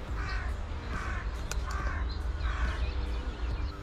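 Crows caw repeatedly in thick fog over farmland during a crow hunt, their harsh calls coming in rhythmic bursts at a moderate distance over a steady low rumble.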